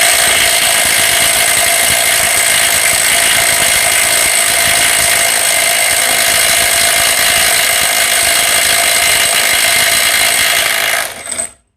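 A Vrill VIW2350 brushless cordless impact wrench rated at 550 Nm runs continuously at close range, a loud, steady whine and rattle that holds for about eleven seconds before cutting off abruptly.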